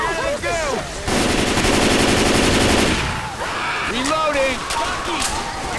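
Rapid automatic gunfire from a video game bursts out loud for about two seconds, surrounded by chattering game speech and voices before and after the shooting.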